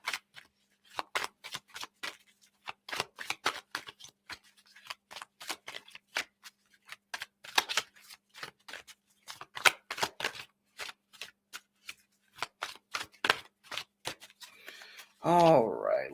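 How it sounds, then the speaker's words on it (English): Tarot cards are shuffled by hand in a long run of crisp, rapid riffling flicks, close and dry, ending with a short rustle. "When that many cards fly out, I just shuffle them back in"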